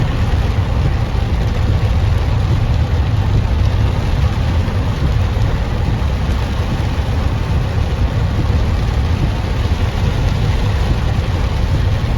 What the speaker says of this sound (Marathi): पुण्यामध्ये पाऊस पहा